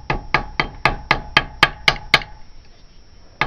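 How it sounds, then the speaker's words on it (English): A very light hammer taps a thin metal tag from a John Deere Type E side cover, straightening it flat: about nine sharp, evenly spaced close strikes that stop partway, leaving quiet room tone. "kind of straightening it up with this hammer here, which is a very light, easy to control hammer"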